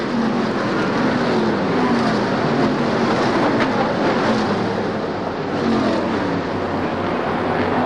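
Race cars at Oswego Speedway during the International Classic roar continuously past in a dense, loud wash of engine noise, with slight pitch sweeps as cars go by and no voices.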